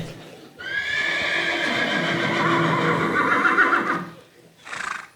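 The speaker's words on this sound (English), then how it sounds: "my horse is acting up again" A horse gives a long, loud, close whinny lasting several seconds, then a brief shorter snort or call after a pause.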